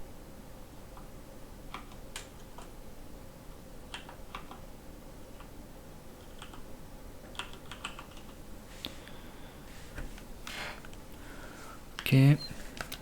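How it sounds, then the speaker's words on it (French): Light, steady typing on a computer keyboard, with irregular soft key taps throughout and a brief louder burst near the end. "Est-ce que je peux écrire au clavier?"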